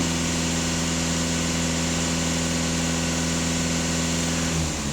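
A VW Golf 2.0 TDI diesel engine runs at steady elevated revs under throttle, a loud, continuous drone close by, easing off just before the end.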